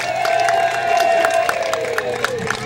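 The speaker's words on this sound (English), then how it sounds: "So audience, can you give our volunteers a great big cheer?" A theatre audience at a family fantasy stage show cheers for the volunteers, a loud crowd of mixed voices whooping and shouting, with children's high cries and a few claps mixed in, sustained throughout.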